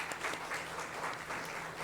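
Church congregation applauding during a Sunday morning Korean service in Chile, a steady, fairly quiet wash of clapping from many people that fills the room without pause.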